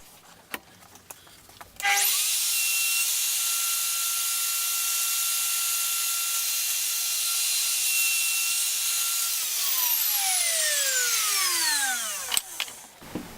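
A WoodRat router cutting dovetail tails in a wooden workpiece: the motor spins up sharply and holds a loud, steady whine under the cutting noise, then winds down with a falling pitch, followed by a few clunks.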